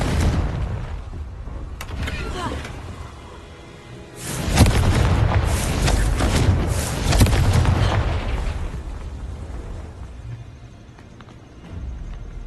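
Heavy blasting booms from a Confringo fire spell in the video game Hogwarts Legacy, a loud burst of broadband detonation after a quieter rumbling stretch, with rolling impacts and debris continuing for several seconds before fading.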